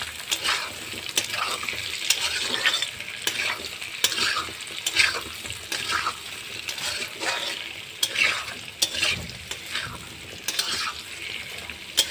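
Food sizzling in a hot pan while a utensil repeatedly scrapes and stirs, producing rhythmic clatter over a constant frying hiss; no talking.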